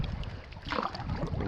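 A solo canoe is paddled on a Boundary Waters lake, with soft swishing paddle strokes and water movement mixed with gusty wind noise, close and continuous.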